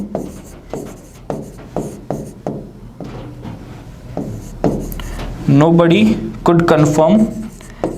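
Chalk or marker scratches and taps in short strokes while a sentence is written on a board, each stroke a quick rasping burst in a regular rhythm, with a man lecturing over the later part.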